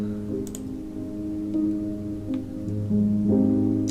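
Mellow lofi music run through the Shatterglass Audio analog tape saturation plugin, warm and slightly distorted with treble cut and bass boosted, steady sustained tones with soft clicks, no talking.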